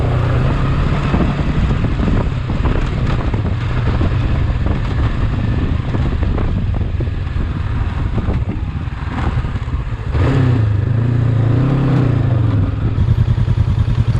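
Honda CB500X and Royal Enfield Himalayan motorcycles climb an offroad hill with a close, steady engine drone and rattling clatter, the revs rising and wavering toward the end.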